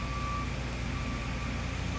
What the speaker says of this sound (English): There's a big dump truck right down there.